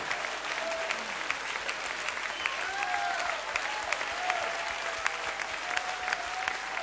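A church congregation breaks into sustained applause, a thick, continuous patter of many hands at moderate distance, with a few faint voices calling out beneath the clapping.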